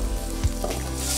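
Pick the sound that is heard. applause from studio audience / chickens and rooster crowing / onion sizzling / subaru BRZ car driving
onion sizzling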